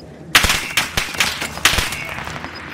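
Bursts of video game gunfire crack loudly in a fast irregular volley, several sharp close shots with short echoing tails and no talk over them.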